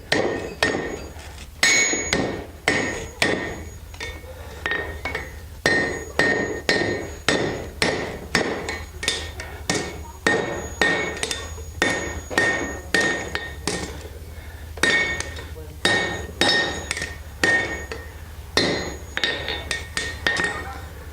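Blacksmith hammering a taper on a hot iron bar at a logging-days demonstration, a long run of loud, ringing metallic blows in quick steady bursts with short pauses between groups, close and clear.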